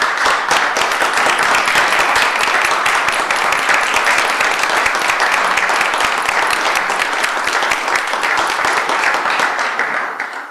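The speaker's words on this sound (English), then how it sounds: "Let's have a round of applause for these folks" A city council chamber audience applauds court personnel for about ten seconds: steady, dense clapping from many hands, close and full, holding level before tapering off at the very end.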